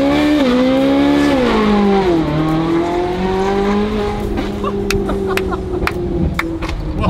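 A rebuilt Ferrari engine revs hard and loud, rising and falling in pitch as it is held up near 4,000 RPM for a manual-transmission burnout, with sharp clicks and crackles toward the end.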